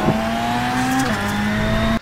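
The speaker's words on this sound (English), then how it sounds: "we can go now full throttle to fourth gear" VW Beetle Lite rallycross car in iRacing at Daytona Short held at full throttle into fourth gear, a steady loud engine drone with a brief dip at a gear change, cutting off sharply at the end.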